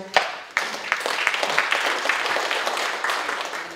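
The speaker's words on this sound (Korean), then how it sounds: "여러분 뜨거운 박수로 맞이해 주십시오" Audience at a parliamentary forum on a peace park giving warm applause to welcome an architecture doctor as she comes up to present, a few sharp first claps swelling into sustained, fairly loud clapping.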